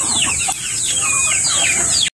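A native chicken hen clucks and chatters in short, repeated calls close by, loud and clear over a steady high insect-like hum, cutting off abruptly at the end.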